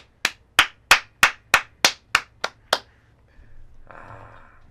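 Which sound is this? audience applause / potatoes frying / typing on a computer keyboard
audience applause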